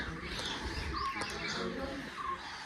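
Faint, scattered morning bird chirps over a soft outdoor background hum, a few short tweets rising above the ambience.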